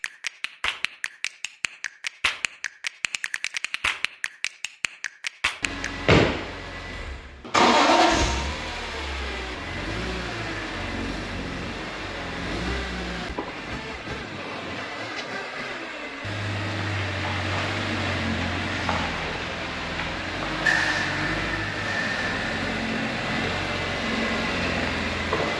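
A Laguna Seca Blue BMW E46 M3 under restoration: rapid ticking and clicking first, then the engine cranks, fires and settles into a steady idle, with a few revs and rumbling close by.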